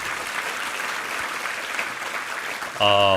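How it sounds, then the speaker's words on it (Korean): Congregation applause during a Sunday church worship service, a steady even roar of many hands clapping, fairly close and sustained, then cut off as an organ or keyboard chord enters. "우리 하나님께 감사와 영광의 박수 올려드리겠습니다"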